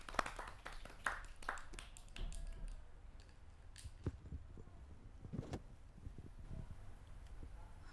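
Audience applause at a Hindi kavi sammelan, greeting a woman poet as she comes to the stage: scattered, moderately distant claps with irregular sharp peaks over a steady low room rumble, thinning out toward the end.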